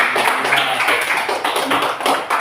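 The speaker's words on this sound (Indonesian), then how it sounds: "Coba tepuk tangan untuk kelompok B." A classroom of students claps for a student group, quick rhythmic bursts of hand claps close and loud, pulsing at a steady tempo for a couple of seconds.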